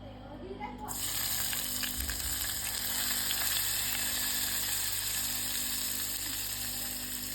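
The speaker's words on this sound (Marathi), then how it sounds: "त्या तेलामध्ये आता आपण टाकतोय कांदा" Chopped onion dropped into two spoons of hot oil for a prawn masala, a sudden loud sizzle that bursts in after a quiet second and holds steady and close, with a brief thump partway through.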